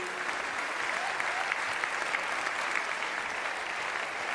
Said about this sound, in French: qu'on vous applaudisse à nouveau